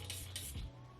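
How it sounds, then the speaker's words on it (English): Milk Hydrogrip setting spray spritzes onto a makeup beauty blender in two quick, close hissing puffs, followed by a soft handling sound. "I'll do a couple spritzes on there"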